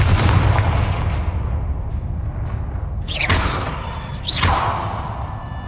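Booming spell blasts in the wizarding game Hogwarts Legacy, with a heavy rumbling impact followed by two sharp whooshing bursts, loud and close.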